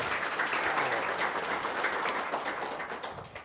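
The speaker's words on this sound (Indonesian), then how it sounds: "Tepuk tangan dong." Audience applause at an Indonesian seminar talk on success, a sustained, fairly even patter of many hands clapping, moderately loud and continuous without speech.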